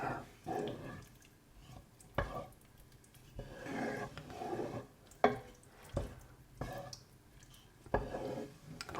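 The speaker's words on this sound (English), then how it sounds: "what I'm going to do now is just give that a stir" Shepherd's pie filling stirred in a pan, a spoon scraping and knocking against the metal in separate strokes with soft wet sloshing and a faint simmer between them, close and quiet.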